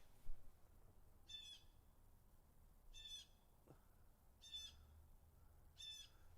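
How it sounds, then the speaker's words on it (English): A loud bird squawks outdoors in four harsh, evenly spaced calls about one and a half seconds apart, carrying over a quiet background with a low rumble. "That's a loud bird, isn't it?"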